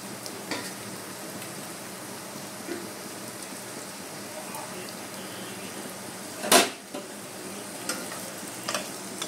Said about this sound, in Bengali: পেঁয়াজটাকে একটু কালার চেঞ্জ হওয়া অবধি ভেজে নেব